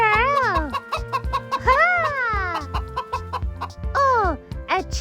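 Chicks and chickens clucking on a farm, loud close rhythmic clucks and rising cackling calls repeating over several seconds, with no talk.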